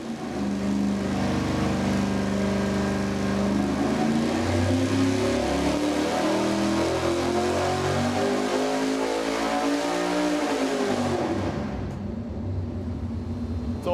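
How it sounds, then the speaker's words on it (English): A race engine revving hard on a dyno, its pitch sweeping steadily upward in a loud, sustained, rising wail for about eleven seconds before cutting off abruptly into quiet. "I like the higher acceleration rate for the sound of that thing zinging up"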